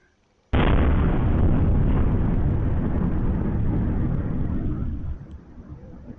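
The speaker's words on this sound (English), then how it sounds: "We just had a massive explosion. Listen to this right here." A sudden, massive explosion bursts in after a moment of quiet, then a long loud rumbling roar that slowly fades.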